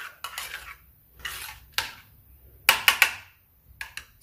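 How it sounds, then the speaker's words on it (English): A spoon mixing tomato sauce and mayonnaise in a small bowl: close, bright clinks and scrapes of metal on dish come in short irregular bursts, with brief quiet gaps between strokes. "I'm mixing tomato sauce and mayonnaise."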